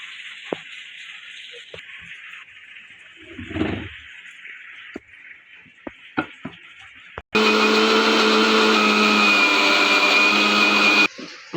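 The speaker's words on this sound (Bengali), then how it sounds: "আমাদের মিক্সি এটা বাটা হয়ে গেছে, এটা এখন নামাবো।" Electric mixer grinder running loud and steady as it grinds rice batter in a kitchen, a sustained whirring motor roar lasting several seconds after quieter handling noises.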